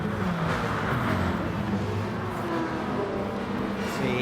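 Race car in Gran Turismo Sport lapping a track with traction control off, overtaking an Audi among AI cars: a constant droning engine note holding steady at moderate level, with no voices.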